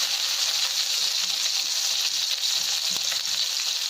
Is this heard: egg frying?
yes